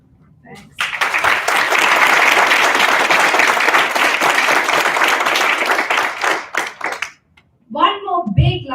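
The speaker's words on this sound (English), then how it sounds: "One more big round of applause for this amazing panelist here." An audience at a panel discussion on women in autonomous transportation breaks into loud, steady applause for the panelists, lasting several seconds before dying away as a voice speaks.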